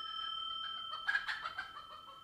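A chicken clucks nearby in a short burst of a few quick, moderately loud calls, heard alone against a quiet background with a faint steady tone.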